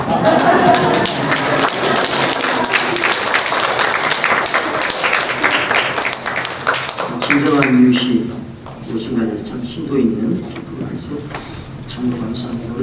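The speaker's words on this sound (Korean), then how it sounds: "그런데 왜 설교 끝나고 박수 쳐요?" A church congregation applauds at a 33rd anniversary revival service after a sermon, strong many-handed clapping for about seven seconds before it fades and a voice begins speaking over the last scattered claps.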